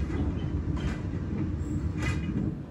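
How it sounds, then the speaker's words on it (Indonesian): A Dharmawangsa economy passenger train running fast on the Jakarta to Surabaya line, heard from inside as a steady, fairly quiet rumble of wheels on rails with faint clickety-clack. "Kereta api Dharma Wangsa yang saya naiki telah tiba di stasiun Bekasi"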